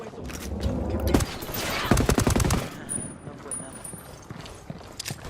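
Bursts of automatic gunfire from Ghost Recon Wildlands crackle in rapid volleys, heaviest in the middle, then give way to scattered shots and game sounds, with someone talking over parts of it.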